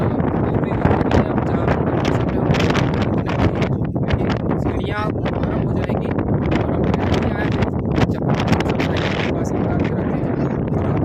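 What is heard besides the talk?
strong wind on Girnar mountain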